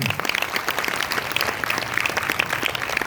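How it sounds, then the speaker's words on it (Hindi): An audience claps steadily and densely for a few seconds, a dense even patter with no voices over it. "मैं चाहूंगा पत्नी के लिए एक जोरदार ताली होनी चाहिए"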